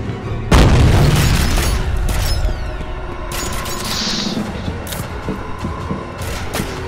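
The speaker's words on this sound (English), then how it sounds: "Shotgun." A shotgun fires in a horror video game, one loud close blast followed by a lingering rumbling echo and several fainter thumps afterward.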